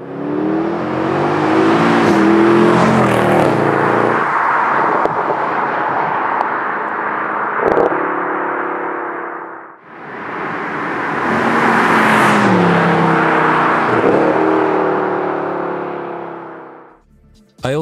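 Mercedes E63 AMG engine revving loud and close in two long sustained pulls, a deep growl rising in pitch and then dropping off, with a brief lull between runs and no talking.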